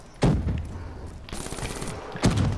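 Gunfire from a weapon in Black Ops 3 zombies mode: three loud, punchy bursts of shots spaced about a second apart, with no talking.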